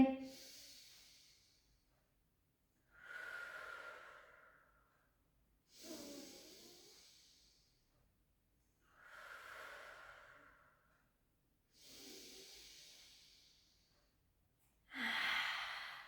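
Six slow, audible breaths in and out during a pilates and barre workout, each a soft airy hiss lasting about two seconds with quiet gaps between, close and faint, with no talking.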